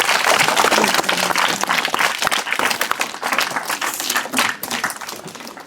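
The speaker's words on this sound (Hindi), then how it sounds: "इनके लिए ज़ोरदार तालियां हों" Students applaud loudly during a school quiz held on the last day before holidays, a dense burst of clapping that stays strong for several seconds and then eases slightly, with a little talk mixed in.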